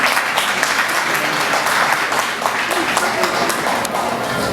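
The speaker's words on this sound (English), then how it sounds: "Can we give applause to Nigerians?" An audience at a Nigeria Independence Day celebration breaks into loud, sustained applause, a dense wash of clapping with some voices and cheers blended throughout.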